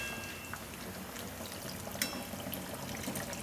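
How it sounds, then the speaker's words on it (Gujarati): Water pours into a pan of vaghareli rotli, a Gujarati snack of tempered leftover flatbread, giving a soft, faint trickle and splash over a few seconds, quiet and close with no talking. "આમાં થોડુંક પાણી નાખશું"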